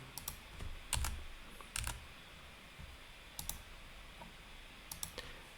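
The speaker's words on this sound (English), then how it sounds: "I'm going to go click on header here and then double click this one" Computer mouse clicks while laying out a crossword puzzle book in a desktop publishing program: a few sharp, close clicks, including a quick double click, spaced irregularly over a quiet room background.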